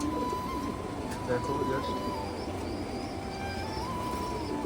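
Pigeons coo at a pigeon farm stocked with fancy breeds such as Spanish shorting and red Pomeranian border, a steady low murmur of coos running throughout under someone talking close by.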